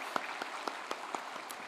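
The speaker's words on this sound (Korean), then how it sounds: "우리 박수로 한번 격려하고 감사하면 좋을 것 같아요" Sparse applause from a Sunday church congregation, heard as a handful of distinct, evenly spaced claps, about one every quarter second, fairly close and moderately loud over a quiet room.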